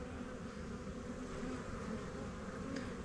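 Honey bees buzz steadily around an open beehive with capped honey, a dense, continuous hum held close and level throughout, with no talking.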